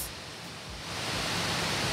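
Cachoeira Grande waterfall in Serra do Cipó gives a steady broadband roar of falling water that swells slightly louder partway through, with no voices.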